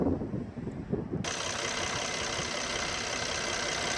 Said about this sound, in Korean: 엔진 떨림이나 소음은 정숙한 편이고요